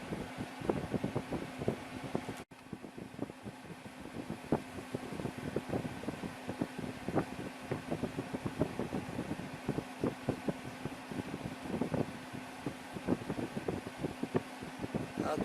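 An LG LW1216ER window air conditioner runs with a steady fan whoosh and low hum, a constant close drone with faint rattles throughout and one brief dropout early on, no voices.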